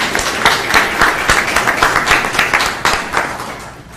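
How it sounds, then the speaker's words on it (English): A room of people claps for readers at a health and inclusion event, lively close applause with distinct individual claps that gradually fade toward the end. "Round of applause for our readers."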